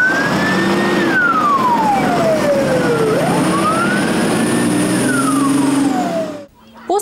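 A fire engine siren on a real call-out to a burning rubbish bin in a town street wails loudly in long rising and falling sweeps over engine rumble, then cuts off abruptly near the end.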